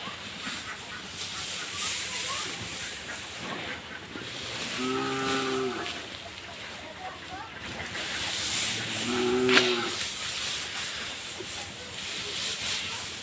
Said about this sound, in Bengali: ওইদিকে পাশের একটা গরু বেশি কান্না করতেছে হয়তো কিদা লাগছে